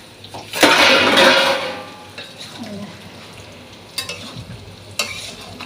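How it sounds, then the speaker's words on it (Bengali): Chicken kosha sautéing and being stirred in a pan, with a loud sizzling burst early on, then quieter frying and a couple of sharp scraping clinks of the utensil against the pan. "এখানে হচ্ছে চিকেন কষা"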